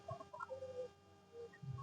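Small newly hatched chicks cheep softly in short, high peeps scattered over a low background, with faint clucking from nearby fowl.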